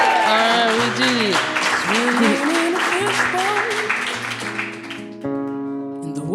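A studio audience claps for a radio show performance, with a burst of applause under a voice speaking over it, fading into a guitar and singing toward the end.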